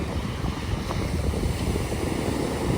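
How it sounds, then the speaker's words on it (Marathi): Sea waves breaking close by on a steep, sloping beach at Sagareshwar near a temple, a steady continuous roar and wash of surf mixed with wind rumbling against the microphone, no voices. "संपूर्ण ज्या लाटा आहेत तर त्या समुद्रात किनाऱ्यावर इथे जवळ येऊन फुटत आहेत."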